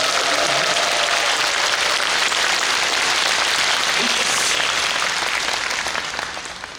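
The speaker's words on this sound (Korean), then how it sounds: "우리 김영철 신부님께 다시 한번 감사의 박수를 드립시다" A large Catholic congregation at a national Holy Spirit renewal retreat Mass applauds in thanks to a priest. The loud, dense clapping fills the space and sustains evenly before tapering off at the end.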